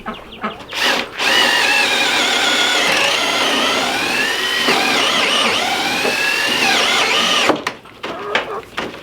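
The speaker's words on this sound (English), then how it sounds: "My drill is about to go kerplunk" A power drill whirs continuously for several seconds, its motor pitch wavering under load, with brief bursts before and after.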